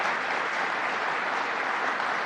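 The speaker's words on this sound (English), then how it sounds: "So let's give a round of applause to Randy Wolkin, our co-chair" An audience at a governor's announcement event in Syracuse applauds in a steady, full-room wash of clapping that holds at an even level throughout.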